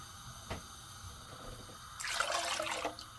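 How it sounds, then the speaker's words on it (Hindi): Water splashes into a cooking pot of soaked lentils for a soup, a fairly loud burst of pouring that starts partway in after quiet kitchen background. "अब इसमें मैं डालती हूँ पानी"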